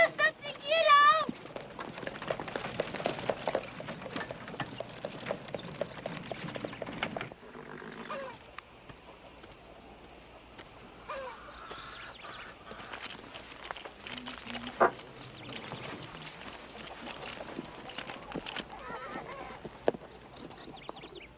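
Horses walk with a clip-clop of hooves in a western setting, the steps faint and intermittent under people talking.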